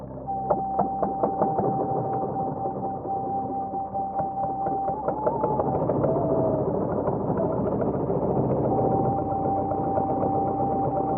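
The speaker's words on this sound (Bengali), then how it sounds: "যমুনা নদীর বুক চিরে খেয়া নৌকা ধীরে ধীরে এগিয়ে চলেছে।" A ferry boat engine runs steadily on the Jamuna river near Manikganj. It chugs with a rhythmic knocking at first, then settles into a continuous mid-pitched drone with a faint tonal whine.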